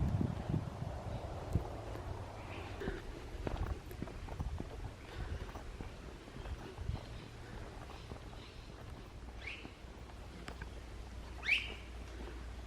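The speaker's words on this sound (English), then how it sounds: "And more interesting bird sounds." Unseen birds call from high in the palms of a subtropical botanic garden in Noosa, Queensland, with faint, scattered chirps and two brief brighter calls near the end over steady low outdoor rumble and rustle.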